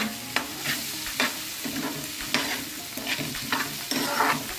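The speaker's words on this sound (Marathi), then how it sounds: "मटार चांगले असे पॅनमध्ये ढवळून झालेले आहेत" Fresh peas stirred in a pan with sautéed onion and tomato for Maharashtrian pea rice, with steady sizzling and repeated close spoon scrapes against the pan, no voices.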